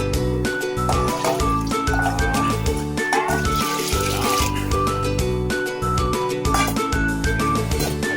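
Water pours steadily into a pot of uncooked rice, a continuous close splashing and filling sound with some clatter mixed in.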